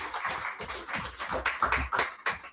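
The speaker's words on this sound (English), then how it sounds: "Just to give them a round of applause, please" Applause for the VMIL team at an annual general meeting, a short burst of hand claps from the audience, fairly close and uneven, rising and falling over a couple of seconds.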